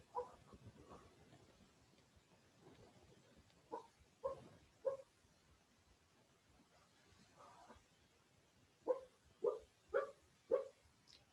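A dog dreaming on a bed lets out soft whimpers and yips, scattered short bursts at first, then a run of five or six quick, faint yelps near the end, with quiet gaps between.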